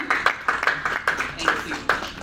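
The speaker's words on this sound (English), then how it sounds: "A round of applause, ladies and gentlemen." Audience applause as panelists take the stage at a Zimbabwe start-up ecosystem panel, with bursts of clapping rising and falling in an irregular rhythm, moderately loud with a busy crowd murmur underneath.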